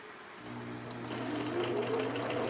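A sewing machine running a zigzag stitch over thread clusters, its motor starting up and then whirring steadily with a fast rhythmic stitching patter close by, with no talk over it.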